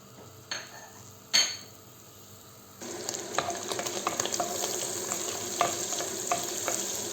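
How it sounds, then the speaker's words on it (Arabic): Coarse and fine pieces of animal fat melt in a pan, opening with a couple of sharp clinks before a steady, close crackling sizzle takes over from about three seconds, dotted with pops and stirring scrapes, no talk. "هلا راح دوب الدهني"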